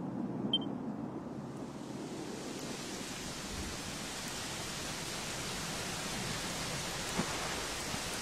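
Steady rainfall in Dragon Quest XI, a constant broadband wash of drops lasting the whole stretch at an even, moderately loud level, with no voices over it.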